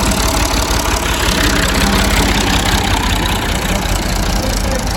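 A tractor engine idles nearby on a farm, a loud, steady low rumble with a rough, even chug that holds throughout with no talking.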